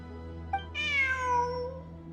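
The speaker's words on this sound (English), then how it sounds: "Oh, there's the cat again." A cat meows in the video game Genshin Impact: a short chirp, then one clear, drawn-out meow whose pitch falls away, heard close over a steady low musical hum.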